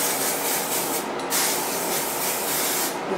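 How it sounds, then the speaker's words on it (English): Hair spray misted onto set curls, a steady, close, continuous hiss with a brief pause partway through, no talking. "Spray, and we're gonna let the curls sit"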